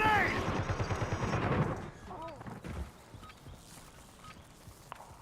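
A grenade explosion and gunfire in a video game: a loud burst of crackling shots and a blast up front, then fainter scattered reports, with a game voice calling out.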